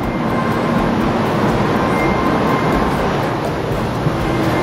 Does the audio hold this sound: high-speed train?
yes